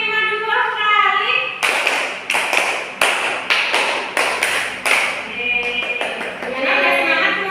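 An elementary class of third graders claps a rhythmic pattern twice in a row, a string of crisp, evenly spaced group claps, with a teacher's voice heard at the start and end.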